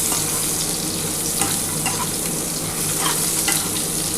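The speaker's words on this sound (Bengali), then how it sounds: "প্রথমেই আমি পেঁপে দিচ্ছি" Papaya pieces fry in a pan for a light rohu fish curry with vegetables, giving a steady, close, loud sizzle with occasional stirring scrapes and no talk.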